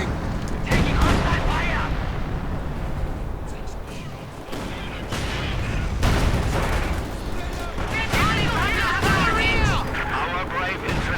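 Artillery and gunfire from a Company of Heroes 2 two-versus-two match, with an ISU-152 firing heavy shells and field guns joining in. Booms and rattling fusillades roll on continuously, loud and layered, while a commentator talks over the battle.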